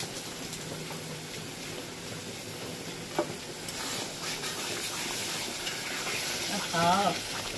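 Gondhoraj lemon leaves added to hot oil in a katla fish curry with yogurt and a little water, a continuous sizzling hiss with stirring scrapes and a brief bubbling spurt near the end.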